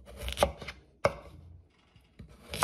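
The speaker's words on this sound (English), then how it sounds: "we're going to cut them to the same thickness" A knife chops through potatoes on a cutting board, slicing them to even thickness, producing a few sharp, separate thuds spaced out over a quiet kitchen background.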